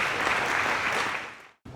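A luncheon audience applauds steadily and loudly, the clapping dense and sustained, cutting out abruptly for a moment before resuming near the end.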